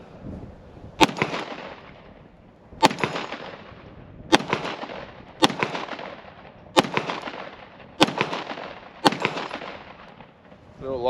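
Seven sharp, loud reports from a Glock 17 9mm pistol fired at a steady, deliberate pace roughly every one to two seconds, each with a short echoing tail outdoors.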